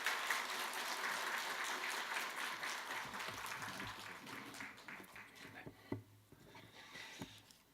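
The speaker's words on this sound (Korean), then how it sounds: "나오실 때 우리 박수로 맞이해 주시면 감사하겠습니다." A church congregation clapping to welcome a speaker, a moderate, fairly distant patter of applause that thins out toward the end, leaving a few scattered claps and knocks.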